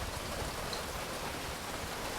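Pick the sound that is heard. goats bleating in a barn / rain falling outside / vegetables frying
rain falling outside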